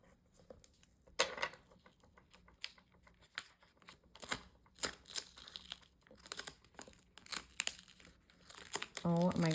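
Cut vinyl is weeded after a Cricut cut, giving crisp peeling, crinkling and tearing sounds in irregular close bursts, with a voice speaking briefly near the end.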